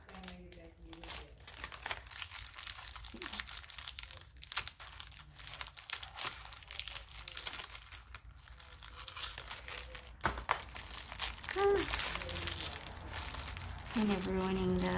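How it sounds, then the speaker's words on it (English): Paper wrapping on a mail package being crinkled and torn open by hand, a steady rustling and ripping close up, with someone talking over it throughout. "Kind of ruining the wrapping here."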